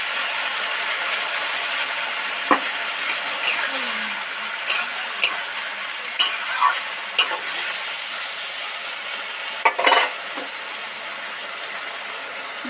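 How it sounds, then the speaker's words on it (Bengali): Fried spices for okra chorchori sizzling in a pan after water is added, a steady crackling fry with occasional sharp clicks and stirring scrapes, close and fairly loud, no talk. "সব মশলাগুলো তো ভাজা ভাজা হয়ে গেছে, এবার এর মধ্যে অল্প পরিমাণে জল অ্যাড করব।"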